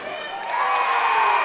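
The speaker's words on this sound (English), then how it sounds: "Magoffin County fans celebrating." Magoffin County basketball fans cheering and celebrating at a 15th Region boys semifinal, a steady crowd roar that swells over the first half second and holds loud throughout.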